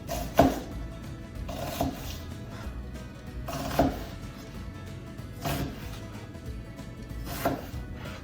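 A knife slices a soup ingredient into thin strips on a cutting board for Thai coconut soup. The cuts come as irregular soft chops and scrapes, close and moderately quiet, with no talking.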